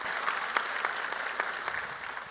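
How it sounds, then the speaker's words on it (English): Audience applause in a theater after a film screening at a festival Q&A, a steady wash of many hands clapping with sharper individual claps popping out, continuous and moderately loud for the whole stretch. "we could all give Sabrina Lee here a round of applause"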